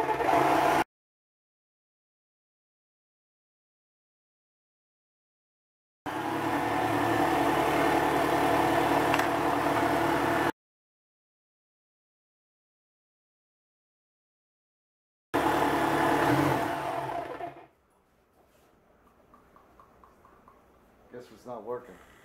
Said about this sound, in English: Now we're going to attempt to cut this with that jigsaw blade